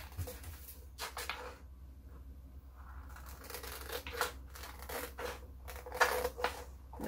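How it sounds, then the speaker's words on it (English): Scissors cut through fabric for making pot holders, a few crisp crunching snips in short bursts, close and quiet with pauses between. "Now I'm going to go ahead and cut with my scissors."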